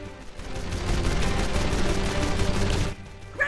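Sustained rapid gunfire from a sci-fi sky pirate battle in Jak and Daxter: The Lost Frontier, dense and continuous for about three seconds before cutting off abruptly, with no voices over it.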